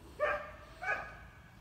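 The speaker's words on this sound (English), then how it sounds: "I hear the dog" A dog gives two quick, faint barks about half a second apart, heard from a distance in an otherwise quiet room.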